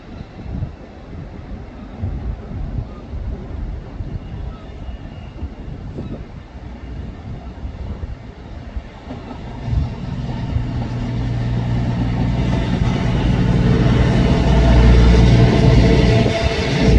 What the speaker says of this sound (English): Two of my favourite trains in the same shot